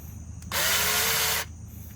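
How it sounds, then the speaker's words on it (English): A drill with a 1/8 inch bit bores steadily into plastic car bumper for about a second, a loud high whine with a slight pitch sag, then stops abruptly. "I'm just going to start off with a 1/8 inch drill bit."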